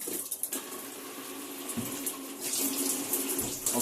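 Water runs steadily from a motorhome shower as air is bled from the pump system, a continuous hissing splash with brief sputters and surges as trapped air pushes through.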